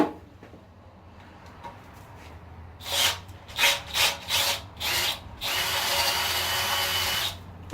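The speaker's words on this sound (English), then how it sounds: "Hopefully these drill bits do it," Cordless power drill boring through material with cheap, worn drill bits, starting in a few short whining bursts and then settling into one long, loud sustained grind before stopping abruptly.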